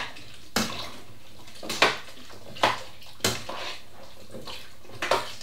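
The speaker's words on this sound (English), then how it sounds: "obviously stir it all up." Ham and vegetable stew with potatoes stirred in a pot, heard as close, wet sloshing strokes roughly once a second, each with a soft knock against the pot, over a quiet background.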